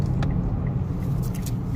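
Steady low engine and road rumble inside a 2021 Mitsubishi Mirage G4 cruising in regular drive mode, a continuous even drone with faint tyre noise and no talk.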